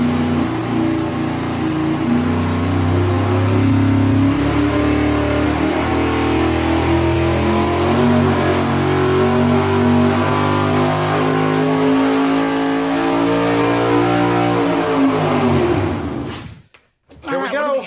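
A supercharged engine on a dyno fires and holds a loud, steady rev with rising pitch for most of the pull, then cuts off abruptly near the end, with voices talking faintly over it.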